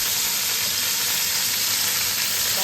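Steady, dense sizzling of carrots frying in a hot pan, a continuous crackling hiss with no talking.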